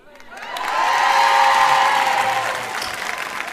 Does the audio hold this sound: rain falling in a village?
no